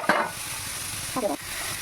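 Capsicum fries in a pan for chow mein, giving a steady close sizzle with two short bursts of stirring scrapes.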